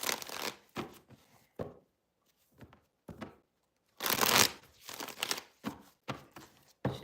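Tarot cards shuffled by hand in repeated bursts of riffling and slapping, close and crisp, separated by short quiet gaps, with no talking.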